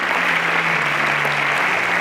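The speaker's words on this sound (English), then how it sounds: "Please a round of applause for Pascal." Applause from a studio audience at a televised Nigerian science and technology competition semi-final, a steady dense wash of many hands clapping continuously at a loud even level throughout.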